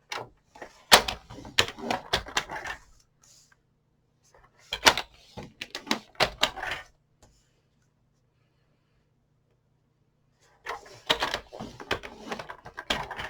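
Paper is folded and scored by hand while making a small bag, with clusters of crisp creasing, tapping and scraping noises separated by quiet pauses, close and fairly soft.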